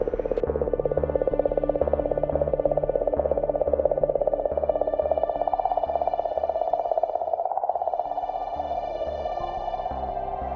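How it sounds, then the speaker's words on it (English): Sped-up oscillation recording of comet 67P captured by the Rosetta RPC instrument, a continuous warbling, clicking drone with a wavering pitch and a rapid pulsing texture, steady and loud from start to finish. "What you're hearing is an RPC scientist somewhat caught by surprise of a comet that seems to be emitting a song."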